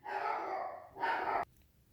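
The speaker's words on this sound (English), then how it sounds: "The dog is barking like crazy." A dog barks from inside a home during a gun-magazine review, two sustained bursts of loud barking close by, then cutting off abruptly into near silence.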